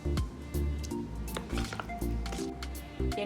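Chicken lollipops dipped into a thick batter, a series of wet squishing squelches in an uneven rhythm of several short bursts, close and fairly quiet, with faint small clinks.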